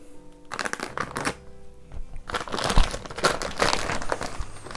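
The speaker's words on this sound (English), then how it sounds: "Get it unwrapped." Crinkling, rustling packaging is pulled off cast woodworking hardware, a loud close run of crackling and tearing bursts that thickens and continues steadily through the second half.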